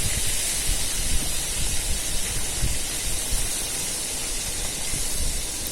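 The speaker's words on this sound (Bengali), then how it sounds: "সব মাছ কটা এইভাবে ভেজে নেব" Tangra fish frying in hot oil, giving a steady, dense sizzling hiss that holds even and loud throughout with no pauses.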